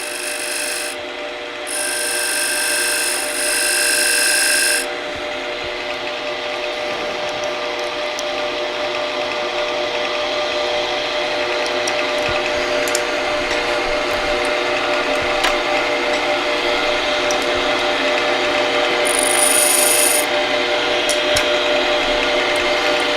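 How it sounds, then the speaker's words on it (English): A steady, raspy scraping drone comes from a bowl gouge cutting a chamfer on a turned wooden lamp base on a lathe, continuous and close with faint high whine bursts near the start and end. "Now just turn a chamfer with the bowl gouge in between the 2 points."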